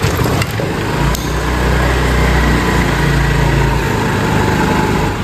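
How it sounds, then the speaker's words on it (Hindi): A DIY vehicle's engine runs steadily at close range, a loud continuous mechanical chug with a low throbbing drone and a sharp clatter near the start, no voices. "तो इंजन को स्टार्ट करते हैं।"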